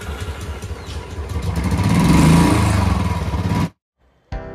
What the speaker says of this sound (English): Yash and Sahil, they have got themselves a bike